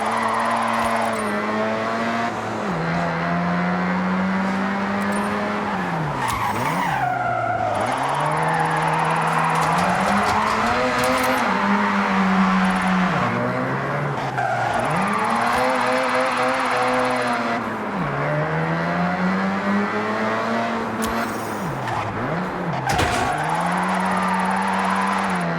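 A rear-wheel-drive car drifts in the racing video game Forza Horizon 6, its tires squealing steadily under a loud, continuous engine roar. The engine pitch rises and falls repeatedly as it slides through corners.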